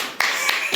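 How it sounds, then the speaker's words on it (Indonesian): A few sparse hand claps ring out in quick succession, sharp and close, in a podcast studio introducing university basketball players from Palembang. "Wah, tepuk tangan dong."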